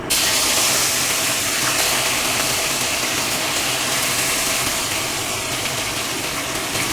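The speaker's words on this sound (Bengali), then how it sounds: "এবারে আমি ওই তেলেতেই ফুলকপিগুলো ভেজে নেব।" Cauliflower florets fry in hot oil left from frying fish for a Bengali katla fish curry, a loud, sudden burst of dense hissing sizzle that stays strong and steady throughout, with no talk.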